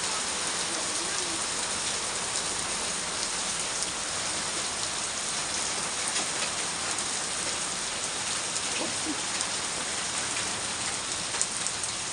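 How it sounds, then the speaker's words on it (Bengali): Steady rain pours down as an even, dense hiss across the whole stretch, with scattered louder drops striking a nearby surface and no voices. "কি দারুণ বৃষ্টি বৃষ্টি।"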